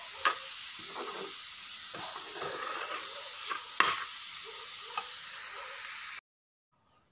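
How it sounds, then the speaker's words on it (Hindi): Grated coconut mixed with sugar frying in a pan, a soft steady sizzle with intermittent stirring scrapes, fairly quiet, cutting to silence near the end. "इधर नारियल को ऐसे चीनी मिलाकर मैंने रखा हुआ था, तो इसको भी थोड़ा सा फ्राई कर लेती हूँ"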